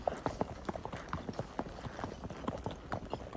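Marwari horses on a cold, misty early-morning long-distance ride, hooves clip-clopping in a quick, steady rhythm close by, with overlapping strikes from more than one horse.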